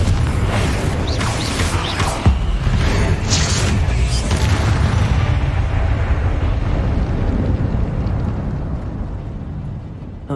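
Confringo blasting spell going off in Hogwarts Legacy, a loud booming explosion that rolls into a long rumbling roar with debris crackle, sustained and close for several seconds before slowly fading.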